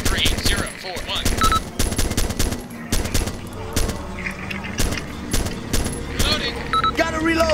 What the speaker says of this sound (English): I'm getting heavily fired upon